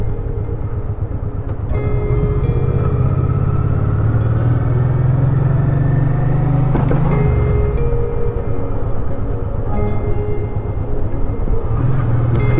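A motorcycle rides along a road through Kremenets, Ukraine, its engine rumble and wind noise steady and close, with a lower droning swell for several seconds midway and no talk.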